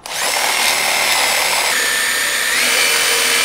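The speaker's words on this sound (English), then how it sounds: "We have drilled the pocket holes into the wood." A power drill bores pocket holes into wood through a Kreg pocket-hole jig, a loud steady high-pitched whine running continuously and alone, with a slight pitch shift near the end.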